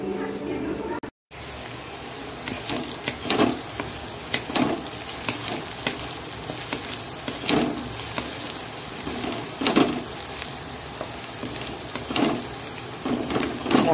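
Potato and bitter gourd fry in a pan with a steady, busy sizzle, overlaid by regular scraping stir strokes; the sound drops out briefly near the start, then continues unbroken.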